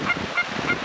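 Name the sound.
duck call blown to imitate duck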